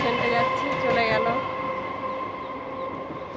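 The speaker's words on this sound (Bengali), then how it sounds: "ওই দেখো ট্রেন যাচ্ছে" A train passing at a distance, heard from a rooftop, a steady rumbling roar with tonal hum that swells and then slowly fades, moderately loud throughout.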